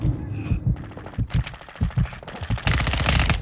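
Machine gun fire in Call of Duty: Modern Warfare II, loud bursts of rapid automatic shots that start and stop, then build into a dense sustained volley toward the end, with brief game sounds between.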